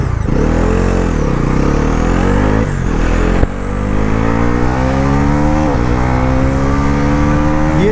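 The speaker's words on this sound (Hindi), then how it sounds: "Now let's launch this motorcycle." A 2025 Bajaj Pulsar NS 400Z motorcycle with a forged piston launches hard in sports mode with traction control off. The engine roars loudly and climbs through gears, with brief shift dips between rising revs.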